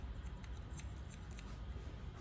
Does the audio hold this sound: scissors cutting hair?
yes